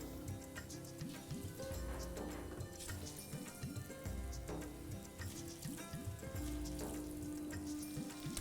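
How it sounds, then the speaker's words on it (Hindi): Chicken frying in a pan for Kerala pepper chicken with ginger, garlic and tomato paste, a soft continuous sizzle with faint crackles and light clinks, fairly quiet and steady without talk. "अब चिकन कर लेते हैं फ्राई।"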